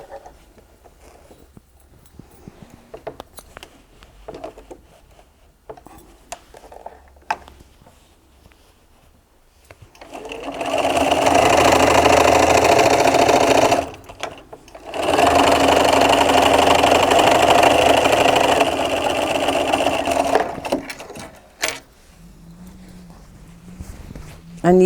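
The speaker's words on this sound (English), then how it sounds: "now we're going to sew across here like this" A sewing machine stitches a seam across a fabric tote bag in two loud, steady runs of rapid mechanical chatter with a short pause between them. Quiet handling noises come before and after.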